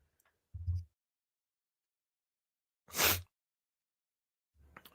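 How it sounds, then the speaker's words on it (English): One sharp, loud sneeze bursts out close to the mic in a quiet room, set between short low thumps and stretches of silence. "My bad, I had to sneeze."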